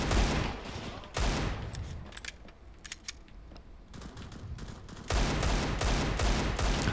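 Video game gunfire in a demolition match: a dense automatic burst, then scattered single shots, then another long sustained volley, loud and close.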